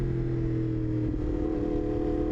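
An R1 sport motorcycle engine hums steadily at moderate revs in second gear at about 45 km/h, a continuous low drone with a slight shift partway through, close and fairly loud.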